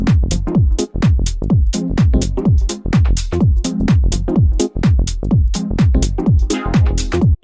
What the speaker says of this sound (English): how to create perfect chord steps for your minimal or tech house tracks, which sounds something like this